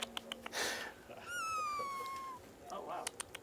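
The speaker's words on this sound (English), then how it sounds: "Black cat just coming out from the woodwork." A black cat meows once with a long, drawn-out falling tone, close and fairly clear, with low room noise and faint voices around it.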